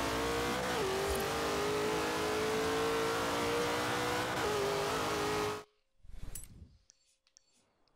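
A rally car in the racing game Forza Horizon 3 holds a loud, sustained engine roar with slight pitch changes, then cuts off abruptly and is followed by brief quieter clicks and rumble.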